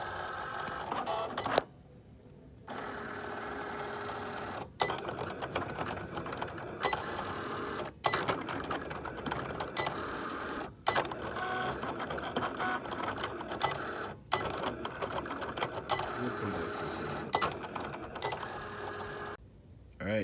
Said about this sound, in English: So I've got the printer set up to make the sticker.